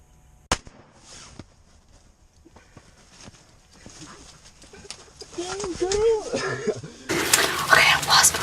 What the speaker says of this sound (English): I just shot my first turkey